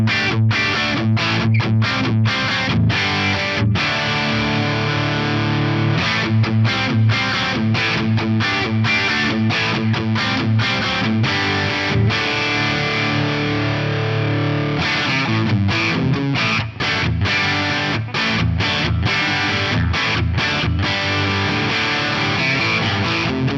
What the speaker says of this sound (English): Let's just have a listen to the difference between having it totally dry and with a little bit of this plate reverb.